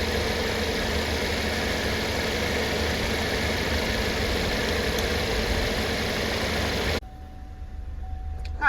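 A Cadillac CTS engine idles steadily and close with a low, even hum and vibration while the transmission is run through the gears during fluid service, then the sound drops away abruptly into quieter background near the end.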